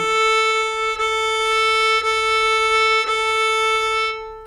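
A single violin note bowed with weight into the string, a full, steady tone sustained through several bow changes before fading out.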